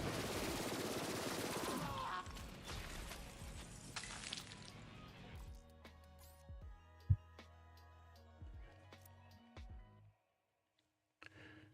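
Rapid bursts of video game gunfire roar at first, then thin into scattered single shots and clanks with one sharp loud crack, ending in brief silence and a last burst.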